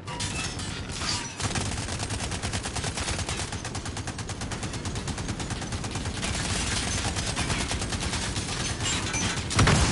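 Overheating gun firing in a Call of Duty match, armored battle royale mode: a long, loud, rapid machine-gun stream of evenly spaced shots that runs almost continuously, briefly broken near the start, then keeps hammering close up.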